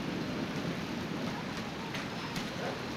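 During a thunderstorm in Utah, rain falls steadily in a dense, even hiss with scattered drop impacts, continuous for the whole stretch with no voices.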